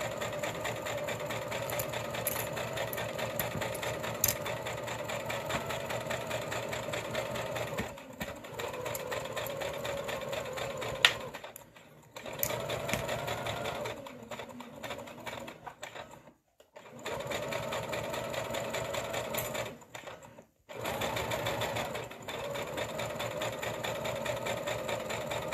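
A sewing machine stitches the arm of a stuffed bat toy with a reinforcing back stitch, running in long, loud, even bursts that stop briefly several times between runs, with no talking.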